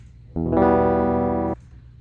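A single sustained distorted electric guitar note rings out for about a second, buzzy and harmonically rich, then cuts off abruptly.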